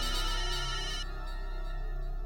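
A phone ringtone sounds at moderate level, a steady tonal ring that brightens in its first second then continues softer, with no talk over it.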